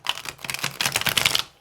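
A deck of tarot cards is shuffled by hand up close, producing a quick burst of crisp, papery clicking riffles for about a second and a half, with no talking.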